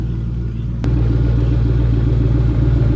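A stock Ford Mustang idles with its mufflers pulled out, a deep steady rumbling burble that thickens after a brief click, close and loud in a shop.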